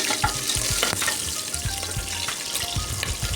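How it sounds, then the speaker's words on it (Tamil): Crushed garlic and green chillies sauté in a hot pan, giving a close crackling sizzle broken by repeated scraping thumps of a spoon stirring, with no voices. "வெள்ளைப்பூண்டு தட்டி வச்சுருக்கேன், அது போட்டுக்கலாம். வதக்கி விட்டுறலாம்."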